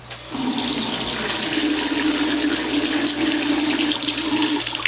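Water runs steadily from a tap, a loud, close, continuous hiss and splash that holds evenly for several seconds with no voices.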